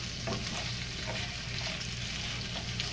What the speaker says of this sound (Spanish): Y aquí le vamos a menear constantemente